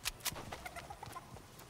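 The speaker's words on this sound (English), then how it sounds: "Love the chickens, dude." Chickens clucking in a video game, a string of short, bright clucks and squawks spaced through a brief, fairly quiet stretch.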